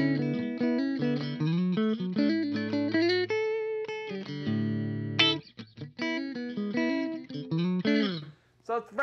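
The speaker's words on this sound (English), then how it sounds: "And then our middle pickup is going to sound like so." Electric guitar on its middle pickup through a Dr.Z Carmen Ghia amp, a steady, close stream of picked single notes and chords, ending with a few sparse strums and a short gap.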